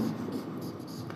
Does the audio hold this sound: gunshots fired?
no